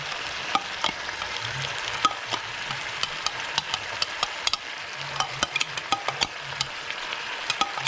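Dried chili paste frying in a pan during a spicy Rajasthani red mutton curry, with a steady close sizzle and crackle and frequent sharp spits and taps of stirring throughout.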